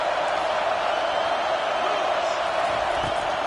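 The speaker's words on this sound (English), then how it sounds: "Decibels rising as the crowd gets behind this defense on 3rd down" Stadium crowd roaring at a college football game between EMG and Nebraska as the defense lines up on third down, a dense, steady wash of cheering filling the whole stretch without letup.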